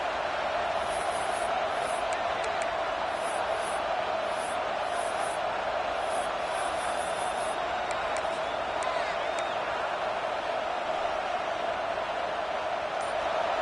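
A football stadium crowd keeps up a steady, dense roar throughout, with a commentator talking over it.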